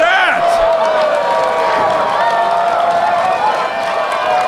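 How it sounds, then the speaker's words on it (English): A wrestling arena crowd roars continuously for a match between Chris Knight and Shaun Moore, with excited yells and whistles all through while a commentator talks over the noise. "The crowd is electric."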